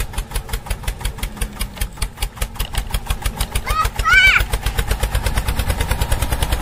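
A homemade mini tractor engine hauling a trolley loaded with eggplants, a close, rapid, even thumping putter throughout, with a brief tonal squeal partway through and voices nearby.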